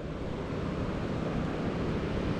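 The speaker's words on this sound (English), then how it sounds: "And water is really flowing." A huge river in rainy-season flood rushes steadily, a dense, loud, unbroken roar of churning water filling the whole stretch with no voices.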